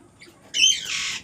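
A parrot lets out a loud, harsh squawk lasting about a second, close by and alone after a short quiet lead-in with a faint earlier chirp.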